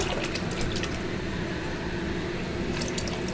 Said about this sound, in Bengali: এই দেখো জল দিচ্ছি।